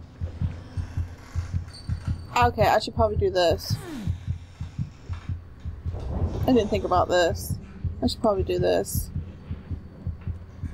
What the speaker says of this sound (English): His little heartbeat's going again.